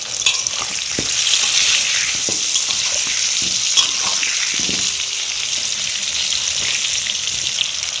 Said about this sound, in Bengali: আলুটা একটু লাল লাল করে ভেজে নিতে হবে।